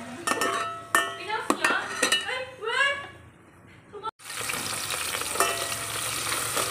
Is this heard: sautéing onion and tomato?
yes